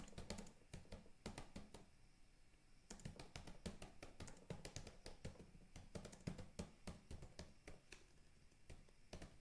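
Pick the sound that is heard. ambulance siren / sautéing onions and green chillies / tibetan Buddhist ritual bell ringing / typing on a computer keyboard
typing on a computer keyboard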